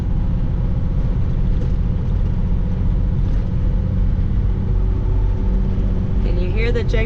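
Loaded semi-truck weighing 44,000 pounds descending a steep 9% downgrade with its Jake brake engaged, a steady, heavy low engine rumble and drone throughout, with a brief higher whine near the end.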